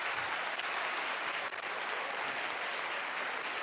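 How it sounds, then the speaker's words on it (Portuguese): A church congregation applauds with a dense, steady roar of clapping that continues evenly throughout, without any talk over it. "E aqueles que creem, aplaudam o Senhor com muita força."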